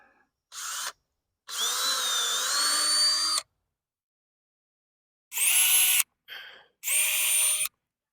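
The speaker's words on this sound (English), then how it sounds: "then I'm going to drill these holes" A power drill bores mounting holes for a WISAMIC bird feeder with camera, running in four bursts of whining motor noise, two long and two shorter, with silent pauses between them and no talk.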